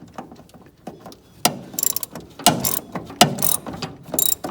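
A hand ratchet at work on a Mustang brake system rebuild, with sharp clicking pawl bursts in short, irregular strokes, close and fairly loud, and small metallic knocks between them.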